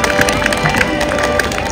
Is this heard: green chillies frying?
no